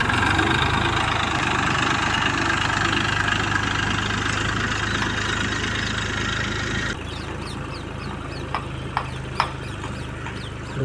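A tractor brought to plough a farm field idles with a steady, knocking mid-pitched engine rumble throughout, and a few faint clicks and knocks sound in the second half.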